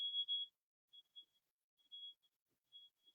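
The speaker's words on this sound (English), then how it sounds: "Do you hear that beeping outside?" A faint, high electronic beep sounds several times at uneven intervals, distant and thin against otherwise near silence.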